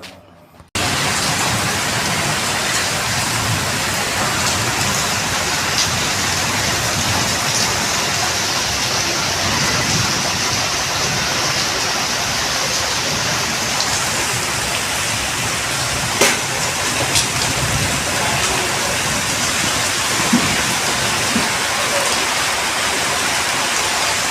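Steady rainfall fills the scene with a dense, even hiss from start to finish, constant and close with no voices heard; a brief quiet moment opens the recording before the downpour sound takes over.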